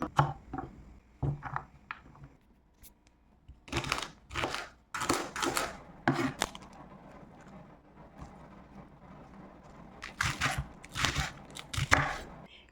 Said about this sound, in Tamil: முதல்ல வெஜிடபிள்ஸ்லாம் கட் பண்ணி வச்சுக்கலாம்.